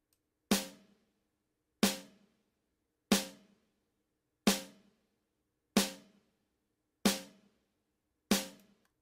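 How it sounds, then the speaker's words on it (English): Seven sharp snare drum hits panning from left to right, evenly spaced about every second and a half, each ringing briefly before fading, with silence between them. "This track will pan the snare from left to right in 7 different beats"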